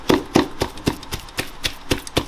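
Pork is chopped into small pieces for dumpling filling: a rapid, even series of about nine sharp knife strikes on a board, close and clear.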